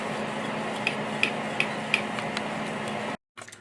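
A spoon stirs buffalo wing sauce in a pot, with a few light, evenly spaced ticks and clinks over a low background hum. Near the end a brief silence falls before faint rustling.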